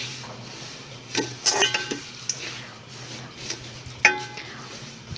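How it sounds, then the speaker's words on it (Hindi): Metal utensil stirring and scraping sugar syrup in a pot for zarda sweet rice, with a few clinks and a sharp knock against the rim over a low steady hum. "इसको अच्छे से हिलाएंगे और इसको मिक्स होने तक इसको अच्छे से मिक्स करूँगी मैं"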